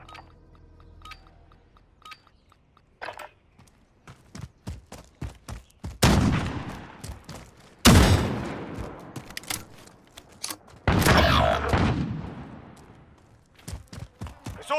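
Bursts of automatic and single gunfire in the shooter game Call of Duty: Modern Warfare, loud, sharp volleys at about 6, 8 and 11 seconds, with scattered lighter shots and clicks in between and no talk.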